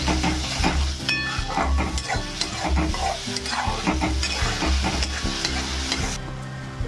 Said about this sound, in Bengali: টমেটো চিংড়ি দিয়ে দিলাম, দিয়ে এবার এটাকে ভালো করে কষতে হবে।